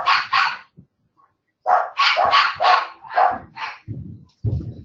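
A dog barks close and loud in repeated sharp bursts: two quick barks, a pause, then a run of six more, followed by lower growly yips at the end.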